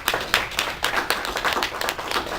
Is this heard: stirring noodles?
no